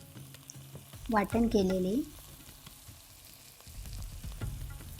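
Green chillies, cumin and curry leaves fry for okra bhaji with a low, steady sizzle and occasional stirring, while a voice briefly speaks near the start.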